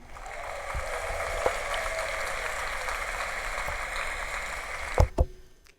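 Canned applause sound effect triggered from a pad button on a TASCAM MiNiSTUDIO personal USB audio interface, a steady wash of crowd clapping lasting several seconds before ending with a couple of sharp knocks.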